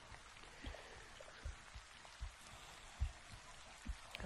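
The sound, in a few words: rain falling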